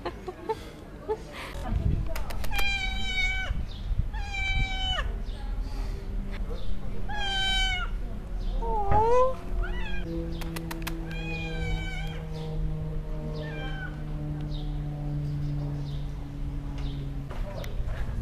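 A cat near a beach in Sibenik, Croatia meows repeatedly in short, close cries, some rising into longer squeals, while people talk quietly and other animal sounds sit in the background.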